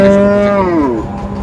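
A beef cow at a cattle market in Cumilla, Bangladesh, moos once, a long loud low call that slides downward and fades, heard up close with no talking.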